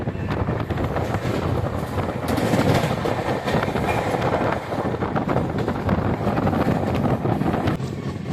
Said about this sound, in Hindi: हमारी ट्रेन भाई फुल हाई स्पीड 110 km की स्पीड से ओवरटेक कर रही है